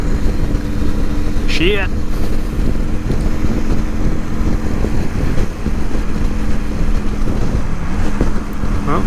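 A Suzuki Intruder motorcycle rumbles along at steady speed under heavy wind buffeting, its engine note shifting slightly as the rider tries to change gears, and a voice mutters once.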